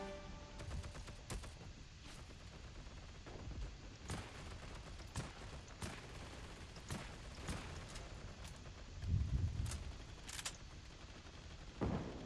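Distant, scattered gunfire in a modern military shooter, a faint crackle of single shots and short bursts spread irregularly over a steady low background rumble, with one heavier thump near the end.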